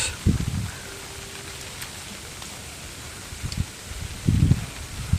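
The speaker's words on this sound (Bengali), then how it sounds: "আজকে সারাদিন এরকম বৃষ্টি চলছে এতে বাতাস" Steady rain patters in the background while low gusts of wind rumble and rustle through now and then, with no one talking.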